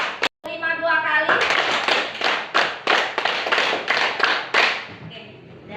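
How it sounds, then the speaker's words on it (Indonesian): A class claps a rhythm together in a classroom, a series of sharp group claps in short counted bursts, close and loud, with a teacher's voice speaking over and between them. "Tepuk 1, tepuk 2, tepuk 2, tepuk 3."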